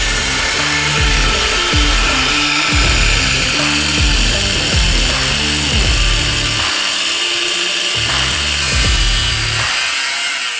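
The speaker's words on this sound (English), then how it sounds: "So these are rivets. So we're just gonna air hammer those off." Pneumatic air hammer pounding out leaf spring rivets on a Toyota Tacoma during a rear leaf spring swap, a loud rapid rattling burst repeated in several close bursts with short pauses, no talking.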